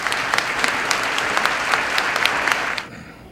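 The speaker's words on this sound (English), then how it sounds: "Again, a round of applause for everyone at Walmart." An audience claps steadily at a Black History luncheon, many hands making a dense, crackling patter with a few sharper close claps, holding level for nearly three seconds before trailing off quickly.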